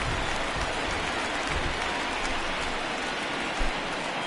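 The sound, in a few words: home crowd applauding Adam Wainwright's departure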